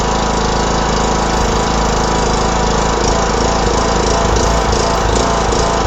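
A John Deere LA105 riding lawn mower engine with a carburetor fault runs loud and close, rising and falling as it surges, over a constant rough mechanical drone with no break.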